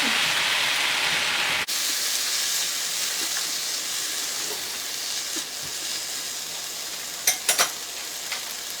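Broth hits a hot pan of garden vegetables and sizzles loudly with a sudden hiss, then settles into steady frying crackle with a few light clinks of a utensil near the end.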